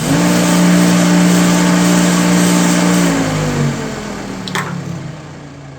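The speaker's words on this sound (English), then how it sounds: "Motor's spinning perfectly fine." A salvaged heater blower motor running up to a steady loud whir, holding for about three seconds before its pitch slides down as it spins down, followed by a few faint clicks.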